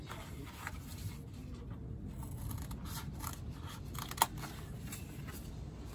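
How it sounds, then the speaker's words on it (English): Quiet, close snipping and crunching as scissors cut through soft foam, with a single sharper click partway through. "using a pair of scissors, just start cutting the foam."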